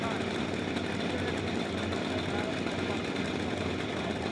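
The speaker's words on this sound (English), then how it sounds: "it's a free air cooled two-stroke 125cc engine" Air-cooled two-stroke 125cc chain-drive kart engines running on premix at a national karting championship final give a buzzy, distant drone beneath continuous commentary.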